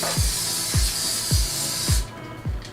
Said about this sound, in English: I'm going to add non-stick spray